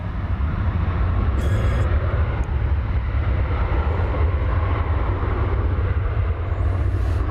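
Loud, steady broadband roar of an airliner in America West livery at DFW Airport, holding at constant strength throughout with no voices.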